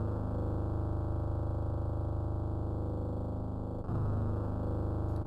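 A strange synthesized effect voice from a Doom soundfont, used in a MIDI cover, plays alone as a steady sustained drone with a brief dip and change in texture near the end.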